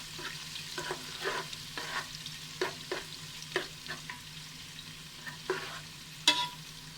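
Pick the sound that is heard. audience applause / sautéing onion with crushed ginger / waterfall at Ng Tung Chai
sautéing onion with crushed ginger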